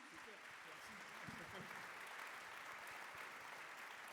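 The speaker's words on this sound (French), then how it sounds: "sous les applaudissements, bien évidemment" An audience at the Gala des Ambassadeurs d'Occitanie awards evening claps steadily, a dense, even wash of applause from a large crowd that holds at a constant level throughout, heard faintly and without speech.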